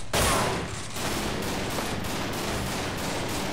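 Enemy shotgun fire in Underhell, a Half-Life 2 mod, opening with a loud sharp blast that gives way to a continuous roar of gunfire and rumble, with faint rhythmic repeats following.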